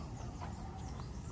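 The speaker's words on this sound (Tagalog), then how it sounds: "Tuwa na naman ang mga manok." Backyard chickens clucking, a short burst of soft clucks over faint low background noise.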